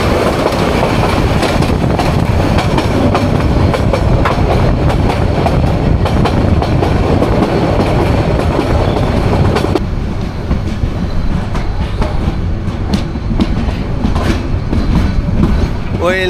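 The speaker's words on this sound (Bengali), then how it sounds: "চিটাগাং রেল স্টেশনের দিকে ঢুকে রেখেছি আমরা" The Subarno Express rolls into Chittagong railway station with a loud, steady rumble and rhythmic wheel clatter that eases slightly toward the end, with voices faintly mixed in.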